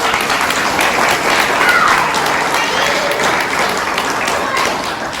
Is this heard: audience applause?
yes